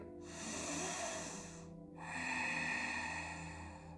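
During a morning yoga session, two long, deep breaths are drawn through the nose in quiet, airy, hissing passes with a short pause between them, close to the microphone and soft overall.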